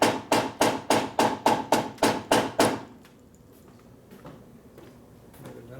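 Ten sharp, evenly spaced hammer blows ring out on a Harley panhead motor part in quick succession, then stop, leaving a quiet workshop with faint shuffling.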